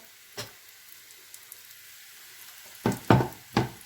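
Hurma tatlısı, an Arab-style dessert, frying in a pan: a quiet background broken by a few short bursts of sizzling and stirring near the end, with no talking.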